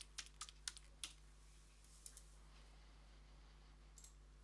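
Someone types a password on a computer keyboard: soft, quiet clicks in a few quick bursts, mostly early on, over a steady low hum.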